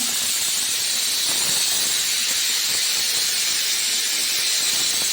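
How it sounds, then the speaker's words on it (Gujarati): A steamer cooking dhokla gives off a loud, continuous steam hiss that stays even and unbroken throughout, close by and with no voices over it. "આમાં ઢોકળા બાફા મૂકી દીધા છે"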